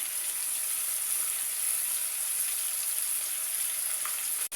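Onion and tomato for a potato kurma frying in a pan, a constant bright, even hiss of sizzling oil with no stirring or voices.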